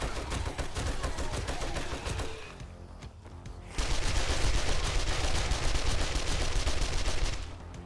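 An SMG in 7 Days To Die rattles off long rapid bursts during a horde defense, loud and close, pausing briefly before another sustained stream of automatic fire.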